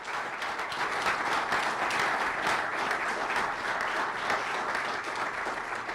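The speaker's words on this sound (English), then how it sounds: "So please join me in giving Hugh Dunn a big round of applause" A university audience at UMass Dartmouth gives sustained applause, an even, continuous roll of many hands clapping at moderate distance, holding steady for several seconds without talk.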